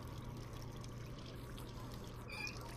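Faint water trickles and pours steadily into a cup in a video game, against a low background hum, ending in a brief brighter splash.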